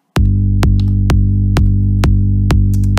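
An unmixed kick drum and bass play in FL Studio: loud, evenly spaced kick hits land over a constant heavy bass tone that dominates the sound, with nothing else present.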